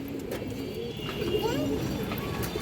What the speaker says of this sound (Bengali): লাইট কালারের জাবরা সিলভার কবুতর